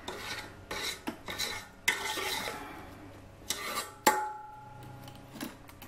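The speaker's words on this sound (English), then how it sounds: "We'll also scrape the sides down because this is," A spatula scrapes the sides of a stand mixer bowl while making vegan chocolate chip cookie dough, with short scattered rasping strokes and an occasional sharp clink, close and intermittent against a quiet background.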